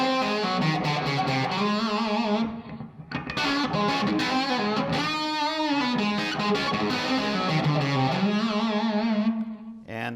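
A distorted electric guitar plays a blues rock lick of sliding, bending notes, with sustained notes held long and thick overdriven gain, loud and up close.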